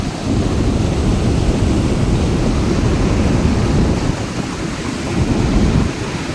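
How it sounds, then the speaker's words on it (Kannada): Water pours steadily down the Marikanive dam channel in a loud, continuous rushing roar, close and unbroken, with no voices over it. "ಇದು ಮಾರಿಕಣಿವೆ ಡ್ಯಾಮ್ ಚಾನಲ್ ನೀರು ಸ್ನೇಹಿತರೆ"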